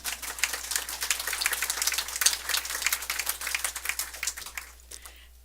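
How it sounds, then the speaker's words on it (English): Applause from a crowd at a grand opening and ribbon-cutting event, steady rapid clapping of moderate loudness that tapers off near the end. "Yes, you can applaud."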